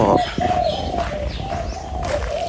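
Low, hollow cooing from a dove repeats in drawn-out phrases, close by, over a faint noisy background.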